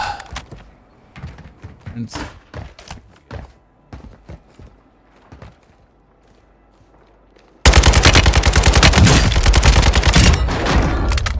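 Kastov 762 rifle fire in a video game: scattered thuds and shots early, then a loud sustained burst of rapid automatic gunfire in the final few seconds.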